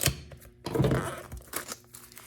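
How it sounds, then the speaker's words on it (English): Shrink wrap on a product box for an Onten HDMI adapter is cut and torn open up close, giving a crinkly rip followed by a few softer crackles of plastic. "Cut the shrink wrap here."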